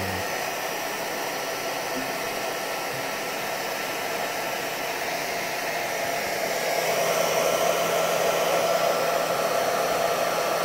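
Hair dryer blowing on wet paint, a loud, close, continuous whooshing drone with a steady motor whine that swells slightly toward the end, with no talking.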